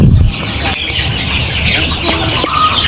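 Layer hens on a poultry farm housing about 3000 birds cluck continuously as a dense, steady flock chorus, close and fairly loud, with no talk.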